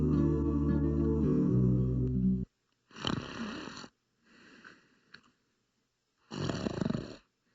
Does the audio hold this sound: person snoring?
yes